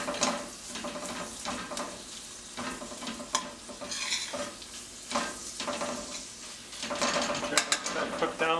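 Sausage sizzling in a pan while a utensil repeatedly scrapes and chops it into small pieces, busy clinking strokes over a constant fry.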